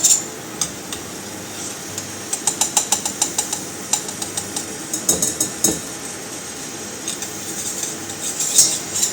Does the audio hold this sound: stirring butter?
yes